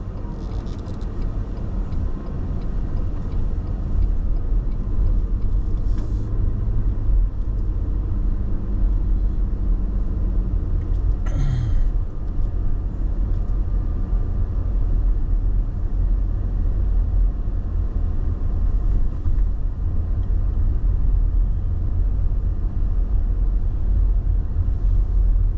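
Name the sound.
car driving through Algoma, Wisconsin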